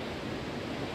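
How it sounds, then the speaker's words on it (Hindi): River flowing after rain near a landslide, heard as a dense, even rushing hiss of moving water, brief and moderately faint, with no voices. "नदी की साउंड आ रही है यार कितनी अच्छी"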